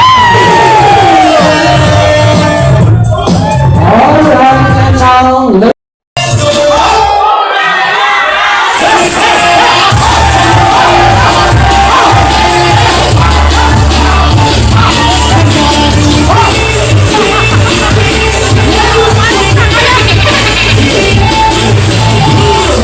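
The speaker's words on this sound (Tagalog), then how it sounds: "bigyan natin sila ng isang palakas na hiyawan" Wedding guests cheer and shout loudly for the couple at a ceremony, a sustained roar of crowd yells and whoops interrupted by a brief gap. A host speaks briefly in the clip.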